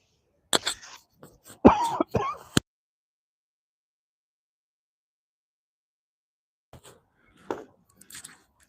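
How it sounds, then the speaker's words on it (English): A man clears his throat and coughs in a few rough, close bursts, then silence, then a few softer throat sounds and coughs. "Got the scratchy throat. Pause. Had to hit the cough."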